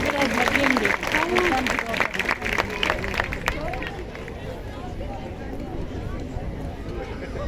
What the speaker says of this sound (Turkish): Muhteşem başkanımıza büyük alkışlar olsun.